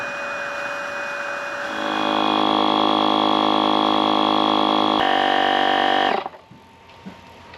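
A Shark II electric SUP pump starts up and runs as a loud, steady, buzzing motor drone with a constant tone for about four seconds. It then cuts off abruptly, leaving faint handling noises.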